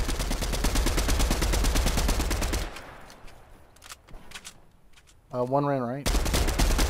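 Rapid automatic gunfire in Fortnite rattles loudly and continuously for over two seconds, quiets into sparse distant shots, then heavy firing resumes near the end; a voice speaks briefly.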